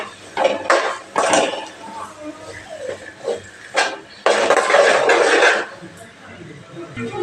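A spoon scrapes and clatters against a pan while stirring onions, in irregular bursts of metallic scraping with short pauses between them.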